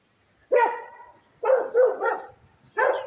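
A dog in a small rural Brazilian village barks three or four times in separate sharp bursts, moderately close, with quiet pauses between.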